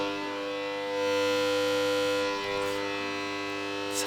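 Arcade slot machine in a French games room gives off a loud, steady electronic wail with sustained tones, rising slightly and holding for several seconds with no talk over it.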